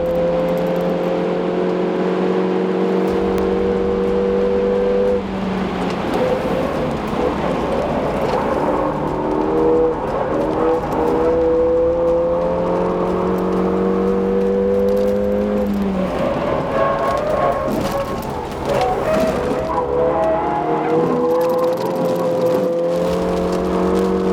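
Car driven hard around a track during a brake test, engine note repeatedly climbing through the gears and dropping under braking, loud and continuous with tyre and wind noise throughout.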